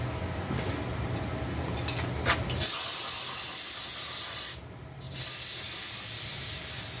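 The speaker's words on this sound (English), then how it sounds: "with some brake cleaner" Brake cleaner hisses from an aerosol can in long, close bursts with a brief pause, sprayed onto a counterfeit Stihl 372XP chainsaw during a teardown.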